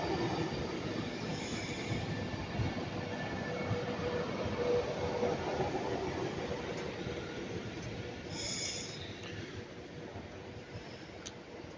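A train pulling into Milton Keynes Central station, a steady rumbling roll with faint wheel squeal and a brief brake hiss near the end, heard from the platform with no talking.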